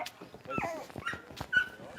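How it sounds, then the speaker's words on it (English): Dogs rescued from a flooded boarding kennel whimper and yip in short, close, high-pitched bursts. "Not just humans needing rescuing, dogs too. 20 saved from a boarding kennel as floodwaters rose."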